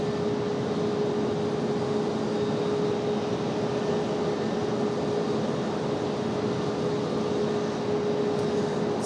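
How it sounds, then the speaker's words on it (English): A Boeing 757 departs Raleigh-Durham airport at night, its jet roar a steady broadband rumble with a sustained tonal whine, mixed with the nearby startup of another aircraft. "Startup of this one here kind of messing up our departure shot there, the 757, unfortunately, but nonetheless, still a nice sounding departure."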